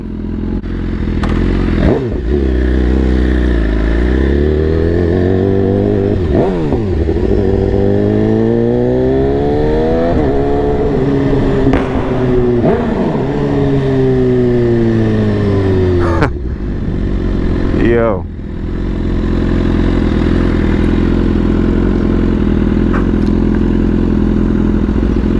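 A BMW S1000RR sport motorcycle ridden through Brooklyn streets toward Coney Island, its loud close engine revving up and down through repeated gear changes with crackling downshifts, a brief drop in sound midway, no talking.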